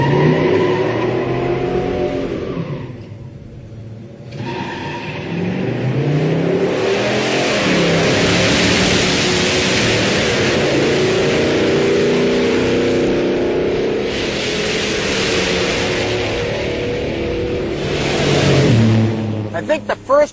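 A 455 muscle car, the big engine fitted in an intermediate A-body, accelerates hard on a drag run, its engine roaring loud and steady for about twenty seconds with a brief dip early on.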